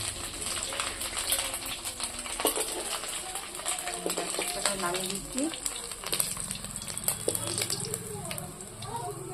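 Fish fries in hot oil in a pan, a steady crackling sizzle with scattered pops and spits throughout, at moderate loudness and close by.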